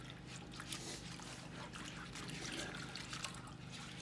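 An old J H Williams wrench being lowered back into a vinegar and salt solution, with faint trickling and splashing liquid under steady low background noise and no talking.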